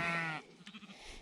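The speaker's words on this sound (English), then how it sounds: "Some sheep hiding out." Sheep bleat along a Welsh coastal path, one clear, close, sustained bleat followed by a shorter wavering call, with no talk over them.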